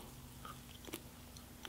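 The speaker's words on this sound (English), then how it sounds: "Let's just quit our yapping and get to chewing." Someone chews a wad of Red Man loose-leaf chewing tobacco close to the mouth, with quiet wet smacking and a few sharper crunchy bites, the loudest near the end, and no talking.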